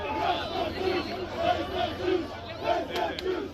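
A protest crowd outside the Sydney Opera House chants in unison, the same short phrase repeating in a steady rhythm, loud and massed, with a few sharp peaks near the end.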